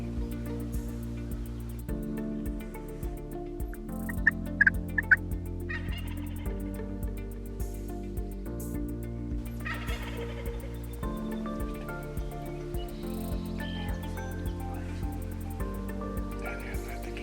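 Wild turkeys gobble in rolling bursts at a moderate distance in the eastern Ontario woods, repeating several times through a quiet hunting scene with low background hum.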